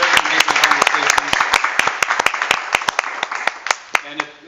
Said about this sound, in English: let's please give them a round of applause for amazing work, amazing conversations